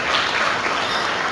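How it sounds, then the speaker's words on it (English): An audience at a student integrity summit claps in a sustained, even wash of applause, many hands together filling the hall at a steady loud level with no pause. "with a powerful round of applause, can we jam our hands together"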